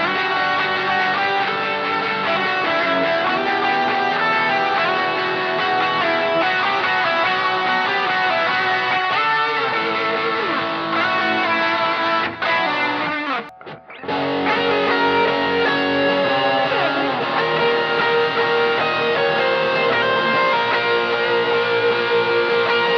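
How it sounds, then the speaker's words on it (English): A 4-6-1 chord progression played loudly on a heavily distorted, effects-laden guitar with a dense, continuous wall of sound and a brief dropout midway. "Chord progression number 4, the 4-6-1, the 6-4-1."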